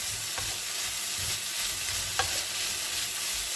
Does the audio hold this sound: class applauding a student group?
no